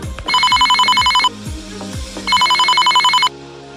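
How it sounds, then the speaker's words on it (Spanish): A mobile phone rings with two loud, close bursts of a buzzing electronic ringtone separated by a short pause, with a faint rhythmic backing pattern and no talk. "Está sonando mi celular."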